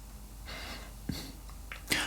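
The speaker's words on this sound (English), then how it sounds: "You will notice that breathing like this is very shallow" Shallow rib cage breathing, shown as part of a shakuhachi posture lesson: a few quick, breathy inhales and exhales, close and fairly soft, with short audible catches of air.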